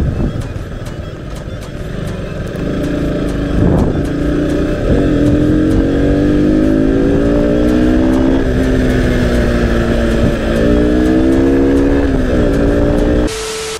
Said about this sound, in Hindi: यहाँ पे भाई साहब क्या मस्त स्कूटी लगा रहे हैं, मतलब हमको ओवरटेक करके जाएंगे भाई साहब